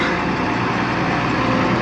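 Engine of a Karvi MK 2170 combine harvester running steadily at a field of corn being threshed, a loud, constant broadband drone with no breaks and no talk.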